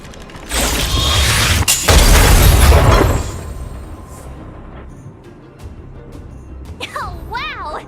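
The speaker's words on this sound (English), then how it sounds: "We wiped them all out in a single explosion!" A loud, roaring video game explosion bursts in and rumbles for a couple of seconds before fading into quieter game sounds and chiming effects.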